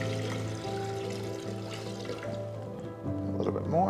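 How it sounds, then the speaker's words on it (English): Water mixed with floral food pouring steadily into a vase, a continuous splashing trickle that thins out near the end, close by with no talking. "I've already mixed our floral food with the water. We just pour it in."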